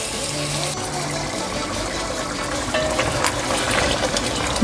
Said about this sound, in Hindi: तो अभी थोड़ा सा इसमें हम पानी शामिल करते हैं